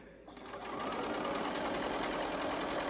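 A sewing machine runs steadily while stitching a fabric mask, a close, fast, even mechanical whir that starts after a brief pause and keeps going without a break.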